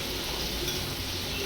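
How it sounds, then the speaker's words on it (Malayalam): Paneer pieces fry lightly in a pan for a curry, giving a quiet, steady sizzle with a soft stirring texture throughout, close by and with no talk. "അപ്പോൾ അതൊന്ന് കുറച്ച് ചെറുതായിട്ടൊന്ന് ഫ്രൈ ചെയ്തെടുക്കുക."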